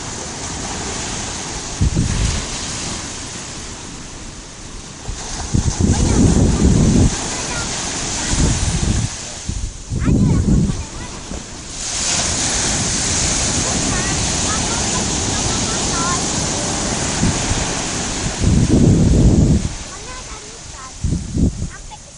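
Surf washes onto an Indian Ocean beach near Meulaboh, Aceh, a steady broad rush with wind buffeting the microphone, while people talk over it in bursts.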